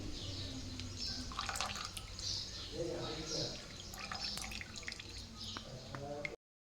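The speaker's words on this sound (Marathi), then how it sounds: "वरचं वरचं तूप आता मी गाळून घेणार आहे" Homemade ghee being strained, with a steady liquid dripping and trickling close by while a voice speaks over it; faint background bird calls.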